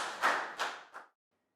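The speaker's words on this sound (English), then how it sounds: "Big round of applause for Pat." Pupils in a primary classroom clap for a classmate: three distinct, evenly spaced claps close by, fading quickly into silence.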